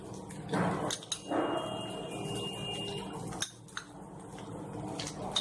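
Jeera rice mixed in a pan with a metal utensil, making a few close scrapes and clinks of metal on metal over a low background hiss, with no talking.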